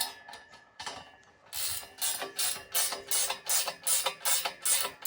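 A spanner ratchets up a stay rod on a timber post with a few slow clicks, then a quick run of sharp, rhythmic ratcheting bursts. The sound is close and clear, with no talk.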